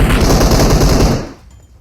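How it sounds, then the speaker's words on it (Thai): A rapid burst of loud automatic gunfire in PUBG Mobile rattles for over a second, then cuts off abruptly into near silence. "เสียงปืนหน้าเรา"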